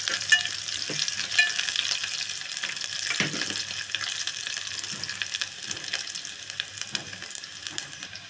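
Tempering spices crackling in hot oil for a vegetable sambar, a close, bright sizzle with scattered pops and a few sharp clinks of a spoon against the pan, steady and fading slightly, no talking.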